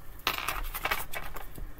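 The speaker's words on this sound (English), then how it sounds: "Give that a quick shuffle." Quick shuffle of a deck of cards during a tarot-style reading, a faint, brief riffle of papery flutters and soft slaps lasting under two seconds, heard alone.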